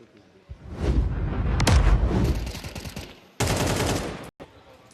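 Rapid rifle gunfire from a Counter-Strike match, AK bursts crackling loud and dense for about two seconds, fading, then a second sharp burst cut off abruptly, with an excited commentator's voice under the shots.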